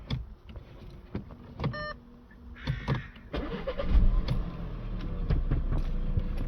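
An Audi A5 1.8 TFSI is switched off and back on: a few clicks and a brief whirring electric motor, then the engine cranks and catches into a steady, fairly loud idle rumble.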